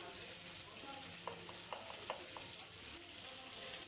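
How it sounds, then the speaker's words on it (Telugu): Chopped tomatoes simmer and soften in a pan while ridge gourd dal is being made, giving a soft, continuous sizzle with a few faint stirring taps. The sound is fairly quiet and close. "ఇప్పుడు టమాటా కాసేపు మగ్గనిద్దాం"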